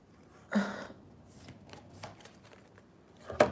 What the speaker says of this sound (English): I'm shuffling the Son of Swords with the Ten of Wands